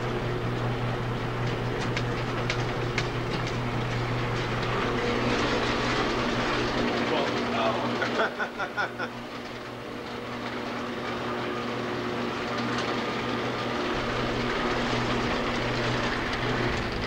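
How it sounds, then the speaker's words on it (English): A train runs steadily, its low rumble and engine drone close and continuous, with faint rail clatter, a brief dip in the middle before the running noise returns; no talking. "I like the way he started up that train."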